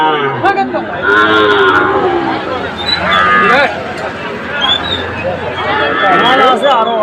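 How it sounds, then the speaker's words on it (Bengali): Gir calf, black and white, mooing at a busy cattle market, with several loud, drawn-out lowing calls close by over a background of crowd chatter and voices. "এটা হলো গির বাছুর"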